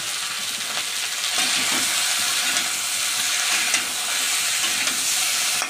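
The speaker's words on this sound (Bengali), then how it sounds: "এবার আমি একটু ভেজে নিই" Tilapia fish head coated in turmeric and salt fries in hot oil, giving a steady, loud sizzle with brief crackles and spatters throughout, and no voices.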